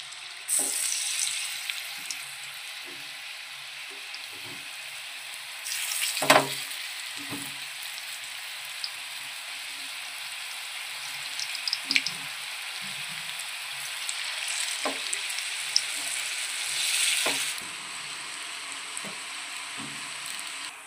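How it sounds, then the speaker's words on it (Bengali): Coconut pitha sizzles and crackles in hot oil throughout, a dense hiss with occasional louder pops and spatters, close up and without speech. "আজকে আমরা ভেজে নেব তেল দিয়ে।"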